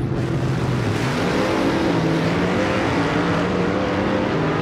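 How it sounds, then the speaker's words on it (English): A race car fitted with a Lenco planetary manual transmission drones loudly and continuously, its engine note wavering as it runs, with no pauses. "What you have just seen is called a planetary manual transmission."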